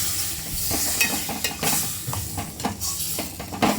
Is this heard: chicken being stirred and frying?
yes